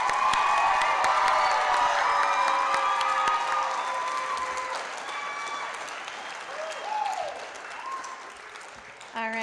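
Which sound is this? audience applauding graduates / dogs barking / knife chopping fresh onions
audience applauding graduates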